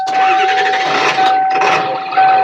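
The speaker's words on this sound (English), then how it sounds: "We'll see if the bus starts." An old bus diesel engine starting up, a steady mid-pitched mechanical roar with a brief dip partway through before picking back up, loud and close, no talking.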